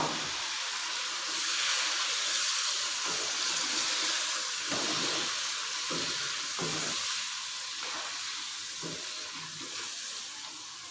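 Egg and potato biryani masala with a splash of water sizzling and frying in a pan, a steady close hiss with intermittent stirring scrapes and clatters throughout, no talk.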